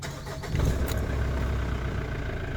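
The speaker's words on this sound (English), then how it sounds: "now even you start the engine" A car with a lit ABS warning light is started: a brief cranking burst gives way to a steady, low engine idle that continues to the end, close and fairly loud, with no talking.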